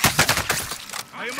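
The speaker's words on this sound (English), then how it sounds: "I am under fire." Video game gunfire in a battle royale match, rapid bursts of loud, close automatic shots fired in quick succession, followed by a short lull and a voice speaking near the end.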